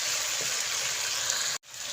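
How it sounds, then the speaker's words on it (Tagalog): Cooking oil pours into a pan for crispy quail adobo as a steady, close, splashing trickle that cuts off abruptly just before the end. "Tapos lalagyan natin ng mantika."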